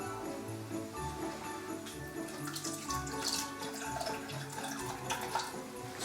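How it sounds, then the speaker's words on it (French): Water poured into a pan with honey for a sugar syrup, a steady running splash lasting several seconds, close and moderately loud with no talking. "Et on va rajouter 10 centilitres d'eau."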